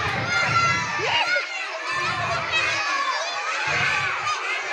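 Schoolchildren shout and scream in an excited group reaction to a snake brought into the classroom, with overlapping high voices in repeated bursts, loud and close.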